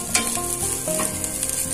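Vegetables stir-frying in a hot pan for restaurant-style egg fried rice, a steady close sizzle with scraping stirs of the spatula throughout, no talking.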